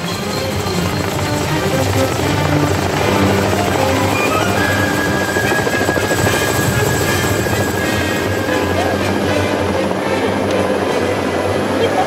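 A helicopter flies over Manhattan near Battery Park, a loud, steady rotor thump and engine drone that fills the whole stretch without a break and stays close overhead, with no voices.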